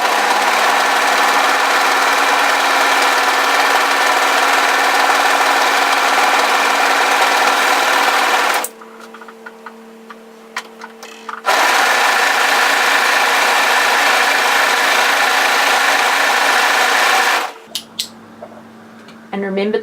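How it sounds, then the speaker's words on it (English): An overlocker finishes the short edges of woven kimono robe fabric, running loud and steady in two long stretches separated by a quiet pause before a final stop. "come to your overlocker and just overlock those short edges"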